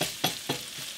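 Onions and mushrooms sauté in a pan, giving a soft, continuous frying hiss broken by a few short scraping strokes of a utensil, all fairly quiet.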